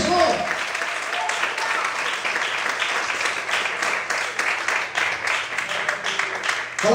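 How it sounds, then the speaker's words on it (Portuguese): Church congregation applauding at an evening worship service, a steady dense wash of clapping from many hands filling the room throughout, fairly loud and close. "Você pode aplaudir o Senhor?"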